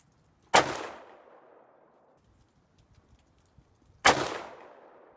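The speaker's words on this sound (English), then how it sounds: "We'll take our second shot and see how she goes." Two loud, sharp gunshots from a Ruger SFAR rifle in 6.5 Creedmoor, about three and a half seconds apart, each followed by a fading echo, with near silence between them.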